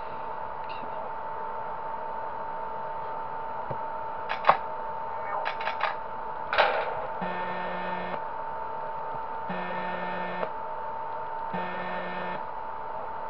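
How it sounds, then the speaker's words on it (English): Door slamming down in the Five Nights at John's video game, heard as a few faint mechanical clunks and clicks followed by three repeated, steady electronic buzzing tones over a quiet background hum, with no talk. "It sounds like a door just went down"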